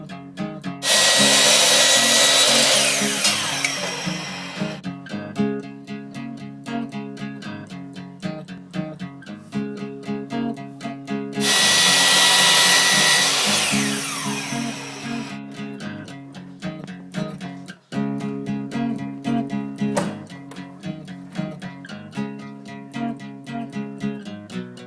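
A power tool cuts wooden trim in two long, loud bursts of saw noise over steady background music that carries through the whole stretch.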